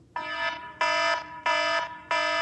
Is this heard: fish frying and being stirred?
no